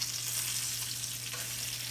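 Trout sautéing in a frying pan for meunière with almonds, giving a steady, close hiss of sizzling oil that holds evenly throughout with no talk.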